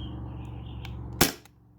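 A modified Sabre 68 home defense launcher fires a single sharp, loud shot after a low mechanical hum, followed by a brief fading tail.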